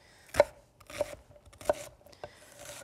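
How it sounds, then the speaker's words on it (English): A knife chops an onion into medium dice on a cutting board in several distinct thuds at an uneven pace, close up and fairly quiet, with no talking. "And we'll just chop it up"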